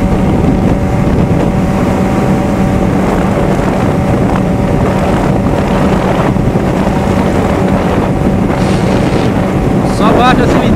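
A Yamaha XJ6 motorcycle rumbles steadily and loudly close by at a fuel station, a continuous engine roar with some wind buffeting and faint voices underneath.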